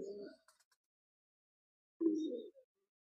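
A broad-tailed pigeon of an imported bloodline gives two short, close coos, one at the start and one about two seconds later, with silence between them.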